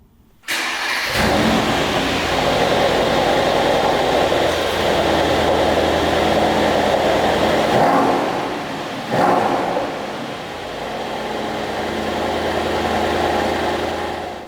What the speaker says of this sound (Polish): jak się przełączymy na Sport Plus, to naprawdę jest przepiękny gang z tego układu wydechowego